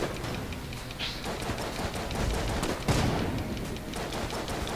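Rapid gunfire in a video game, a steady dense stream of shots with sharp cracks and louder bursts, continuous and close throughout.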